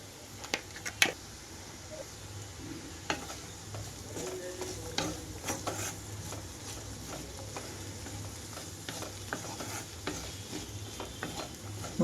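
Carrots frying with cinnamon powder and chili powder hiss steadily in a pan while a spoon scrapes and taps through them in frequent, irregular strokes, close and continuous throughout.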